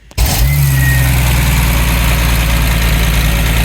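A TVR 2500M's 2.5-liter Triumph TR6 six-cylinder fires up and settles into a steady, loud, close idle, a smooth continuous burble with no talking.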